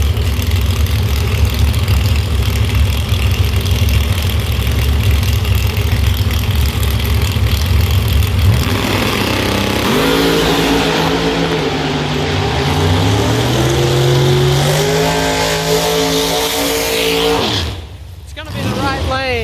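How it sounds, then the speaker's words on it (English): Drag race cars at Beech Bend Raceway, outlaw 4.70 and 4.50 class racing, roar loudly and steadily, with engine pitch sweeping upward as they accelerate down the strip before cutting off near the end. "The Chevy 2 gets the win, but here's Andy Johnson, Pro Superstar Shootout 2025 champion."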